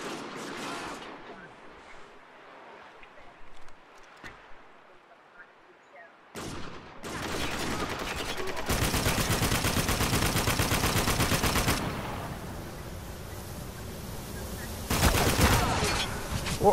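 Heavy machine gun fire in Spec Ops The Line multiplayer, with long dense bursts of rapid automatic shots after quieter scattered sounds, ending with another loud burst; a player talks at times.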